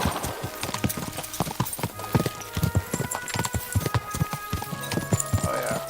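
A horse gallops in Kingdom Come Deliverance 2, its hooves clip-clopping in a fast, steady rhythm that stays close and prominent, with occasional background voice underneath.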